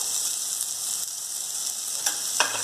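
Semolina toasts with sautéed onion in a hot pan for upma, giving a steady close sizzle with a couple of faint scraping stirs near the end.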